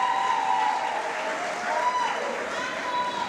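Audience at a 10th anniversary celebration clapping together in a steady, sustained wash of applause lasting the whole moment, with faint crowd murmur underneath.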